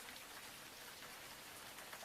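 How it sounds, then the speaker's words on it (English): Steady rain falls on surfaces, a dense even patter of drops with no other sounds, fairly quiet and constant throughout. "And as the rain carries on falling"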